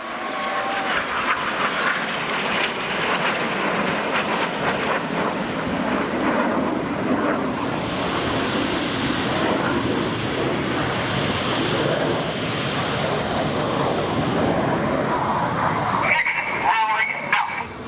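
Red Arrows jets of the RAF display team flying past at the East Fortune Airshow in 2015, including the synchro pair inverted, a loud sustained jet roar that swells and holds throughout, with a commentator's voice faintly mixed in.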